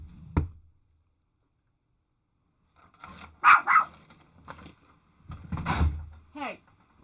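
A dog barks indoors: one sharp bark at the start, a stretch of silence, then a quick pair of loud barks and a few fainter ones, with someone talking around them.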